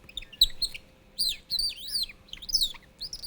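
A small, slightly hollowed wooden log nightingale whistle plays quick, warbling chirps and trills in short bursts, imitating birdsong. It sounds close and bright, with no talking.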